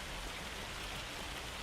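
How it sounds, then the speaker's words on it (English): Hail falling in the Farming Simulator 25 video game, a dense, steady hiss of countless tiny impacts like heavy rain on a surface, loud and unbroken throughout with no voices. "You can barely hear it over the hail."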